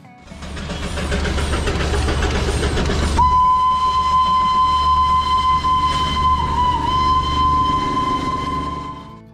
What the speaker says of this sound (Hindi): पुराने भाप इंजन की सीटी और धुएं का गुबार